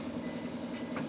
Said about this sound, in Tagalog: yung tunog niya ng beep, nagbi-beep siya.